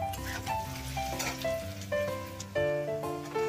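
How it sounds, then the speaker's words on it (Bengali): Onions frying in a pan give off a steady sizzle beneath prominent melodic background music. "পেঁয়াজটা আধ ভাজা হয়ে এসেছে, দেখুন।"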